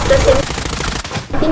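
Rapid bursts of automatic gunfire from the Blood Strike shooter game crackle in quick succession, loud and dense, briefly pausing before resuming, over game audio.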